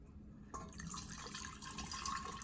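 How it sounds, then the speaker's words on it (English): Tea concentrate for Southern watermelon sweet tea pours through a funnel into a pitcher, a soft, steady trickle that starts abruptly after a brief pause and stays fairly faint and close. "Now we're just gonna pour our tea concentrate into our pitcher."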